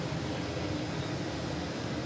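An Airbus A400 military transport aircraft on an airfield, its engines giving a steady, loud, broadband roar that holds throughout with no talk.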